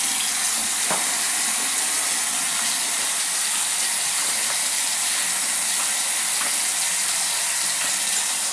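Tap water runs into a sink in a loud, steady hissing stream that never lets up, with a few faint clicks and knocks in the background.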